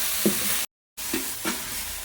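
Onions sautéing with curry leaves and salt in a hot pan, a steady sizzle broken by a few stirring scrapes, with a short silent gap partway through.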